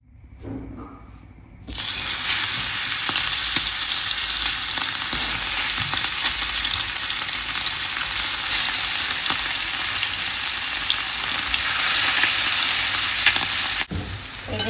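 Pieces of Pagello red sea bream, coated in chilli powder and spices, sizzle loudly in hot oil, a dense steady frying hiss that starts abruptly and runs on without speech.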